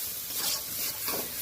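Leaves being stirred and dry-roasted in a pan, a soft close scraping hiss with light sizzling that swells in a couple of stirring strokes.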